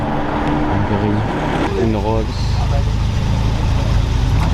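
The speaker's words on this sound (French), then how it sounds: "Ferrari Roma qui arrive" A Ferrari Roma arriving at a charity car rally in Lyon, a steady loud engine hum running throughout while people chat nearby over it.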